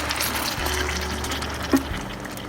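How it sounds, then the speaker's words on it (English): A gallon of pork and beans poured into a pot over caramelized brown sugar, a steady wet glugging pour with a soft plop near the end. "I'm adding a gallon of pork and beans."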